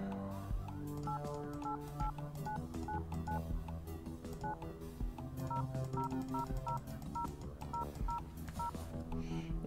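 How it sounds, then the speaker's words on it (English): Telephone dialing in the video game Please Don't Touch Anything, with a rapid run of paired DTMF keypad tones repeating in a steady rhythm over a droning, synthetic background hum. "Oh, I can dial a phone number."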